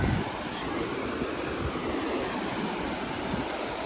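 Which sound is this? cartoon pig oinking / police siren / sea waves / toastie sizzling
sea waves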